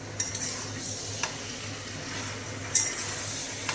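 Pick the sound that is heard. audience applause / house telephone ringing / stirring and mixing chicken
stirring and mixing chicken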